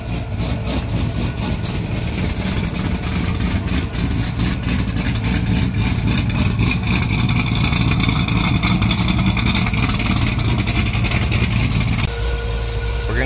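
A cammed LS3 engine in a C6 Corvette running on E85 drones loudly and continuously from inside the car while driving, its choppy rumble steady before easing at the end.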